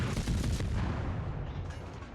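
Naval guns fire in World of Warships in a dense, rumbling barrage of overlapping booms that holds loud and steady, then eases slightly near the end.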